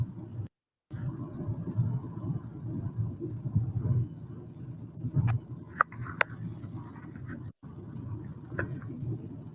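A car rumbling steadily from inside while being driven, a constant low engine and road drone with a few brief clicks and short dropouts, no talk heard.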